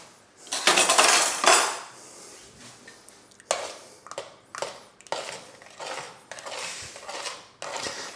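Pumpkin soup stirred in a pot, about half full, with a spoon: a run of scraping and clinking strokes against the pot, louder at first and then coming in shorter, softer bursts, close by with no talking.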